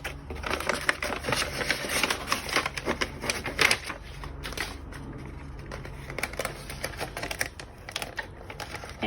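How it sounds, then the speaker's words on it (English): Wallpaper is peeled off its backing while being applied to furniture, a close, continuous crackly tearing and rustling with irregular sharp bursts, heard alone without talk. "I can begin to peel off the rest of my paper"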